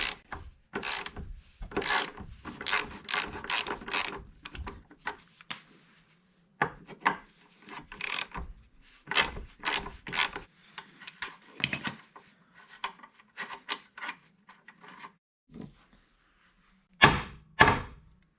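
A socket ratchet clicks in quick bursts while loosening aftermarket control arm and knuckle bolts on a 2009 Mini Cooper, with repeated runs of sharp pawl ticks separated by pauses, close and crisp with no speech.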